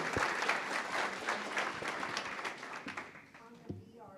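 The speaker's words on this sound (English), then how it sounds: "please, give her a round of applause" A room of people applauds in dense, continuous clapping that gradually thins toward the end, with a voice beginning to speak as it fades.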